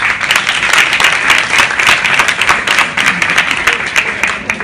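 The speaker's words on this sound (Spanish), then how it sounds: "un aplauso los que hagáis deporte de manera habitual" An audience at a talk about sport breaks into loud, sustained applause, many hands clapping in a dense, steady wash from start to finish.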